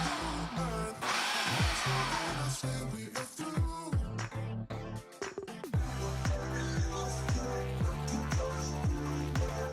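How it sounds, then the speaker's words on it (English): A food processor pulses a honey and lemon zest mixture, its motor whirring in a run of short, evenly spaced bursts that grow more regular toward the end, loud and close with no talking. "we're gonna put the lid on and we're gonna pulse this 15 to 20 times until everything's combined and smooth"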